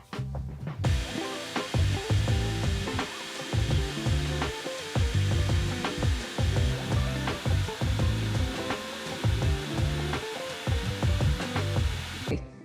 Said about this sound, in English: I'm going to sand it off nicely.